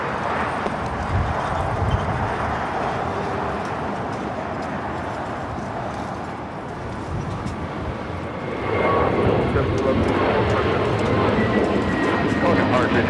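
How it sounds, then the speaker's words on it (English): A JetBlue Airbus A321neo takes off from LAX bound for JFK, its jet engines a broad, heavy rushing roar that swells louder toward the end, with people talking nearby. "That was JetBlue 1124 taking off to JFK on the A321neo."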